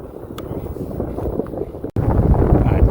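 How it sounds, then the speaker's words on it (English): Steady roaring wind buffets the microphone on a Philodo H8 e-bike heading into a headwind, loud and continuous with a brief dropout near the two-second mark. "I'm heading into the wind now"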